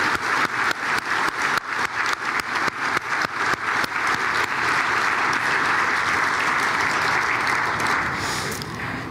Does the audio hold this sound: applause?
yes